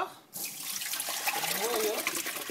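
Pondu cassava leaves washed in a colander under running water, a close splashing tap stream that starts abruptly and continues steadily.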